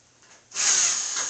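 A power drill bores into wood while a budget racing rig is being built: a short quiet lead-in, then a loud, steady grinding whir that runs to the end.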